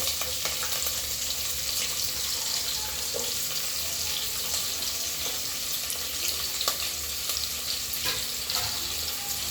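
Onions fry in oil for chicken pulao, a continuous close sizzle with scattered crackles and stirring taps throughout, no voices.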